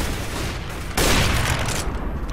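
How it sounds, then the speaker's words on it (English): A flashbang grenade thrown in Counter-Strike: Global Offensive, a steady gunfire-like rumble that jumps into a loud, bright burst about a second in and holds for roughly a second before easing back, no voices. "Throwing flashbang."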